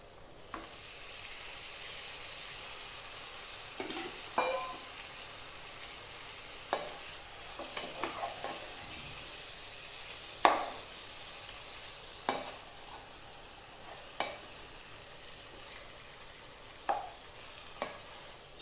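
Chicken pieces frying in masala for chicken roast, with a steady low sizzle and intermittent scraping, clinking stirs of a spoon against the pan, heard up close with no talking.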